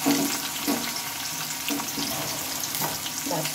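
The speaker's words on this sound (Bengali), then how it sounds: "পেঁয়াজগুলোকে হালকা করে আমি ভেজে নেব।" Chopped onion frying in a pan, a continuous close sizzle with occasional stirring scrapes.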